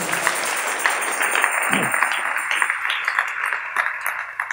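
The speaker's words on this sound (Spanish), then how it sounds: "Démosle palmas al Señor con todo el corazón" Congregation clapping for the Lord during a church service, a steady patter of many hands ringing through the room at moderate loudness.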